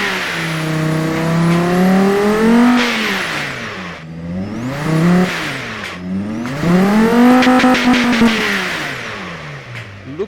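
A big, loud car engine revs hard in repeated rising and falling sweeps, with turbo whooshes and flutter between pulls, close up and with no voices over it.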